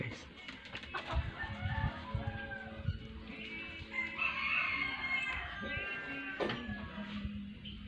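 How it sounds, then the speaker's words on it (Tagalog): Chickens at a backyard coop cluck and a rooster crows, with drawn-out calls rising over scattered clucking and background noise. "So may manukan kami dito sa likod guys, kami ng family."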